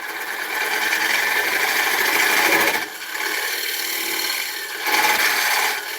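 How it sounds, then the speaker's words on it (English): Sandpaper rubs against an ash wood tenon spinning on a lathe, making a steady, close rasping hiss that softens briefly twice before resuming. "I've just sanded that tenon off"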